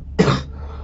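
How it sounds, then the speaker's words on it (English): A single short, sharp cough from a commentator during a StarCraft match cast, close and loud, lasting well under half a second, with quiet room tone afterward. "Excuse me, I've got a little bit of a cough a minute"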